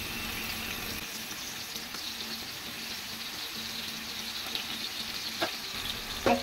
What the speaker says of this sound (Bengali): এক চুলায় ইলিশ মাছ ভাজা আর অন্য চুলায় আলু ভাজি